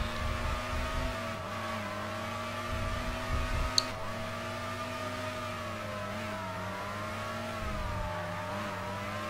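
F1 car engines in the F1 Racing Championship game whine at a high sustained pitch, rising and dipping gently as they run close together, a steady moderate tone with a brief click partway through and no speech.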